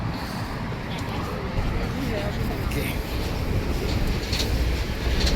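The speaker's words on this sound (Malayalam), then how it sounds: "മുകളിൽ കൂടെ മെട്രോ പോകുന്നുണ്ടോ?" A metro train rumbling overhead on an elevated line near a bridge in Paris, close to the Eiffel Tower; a dense, steady roar with faint rail clatter fills the whole stretch, with a voice occasionally underneath.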